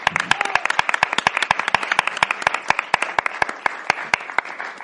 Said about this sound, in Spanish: un fuerte aplauso para David Bernat y Game Elch.